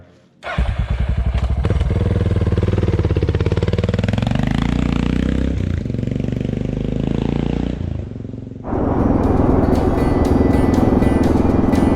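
A Suzuki DR 650 dual-sport motorcycle riding on outback dirt roads in Tasmania, its engine loud and close, rising and falling with throttle before settling into a rougher rumble.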